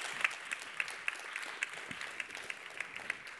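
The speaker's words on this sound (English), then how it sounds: "Please give her a massive round of applause." A conference audience at a sustainability session claps for a speaker, with dense applause held at a fairly quiet, distant level and individual claps popping through at an even pace.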